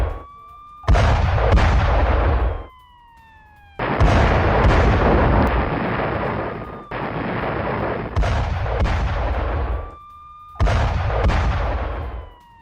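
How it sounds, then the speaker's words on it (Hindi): Missile strike explosions at night over Tel Aviv, several loud, booming blasts with long rumbling tails, some overlapping, with a high descending whine between bursts. "जरा अब सुनिए और इस हमले को अपनी आंखों से देखिए कैसे रात के अंधेरे में मिसाइल टारगेट करता है"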